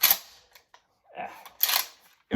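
Shotgun set up for a left-handed shooter racked twice, each a sharp metallic clack-clack of the slide, close and loud with a quiet pause between, with no shot fired.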